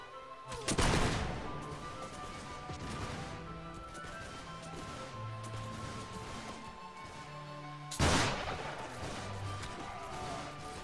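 Musket volleys crash out in a large battle in Mount & Blade: Warband during the American Revolution, two loud sharp bursts several seconds apart with scattered shots and battle noise rolling between them.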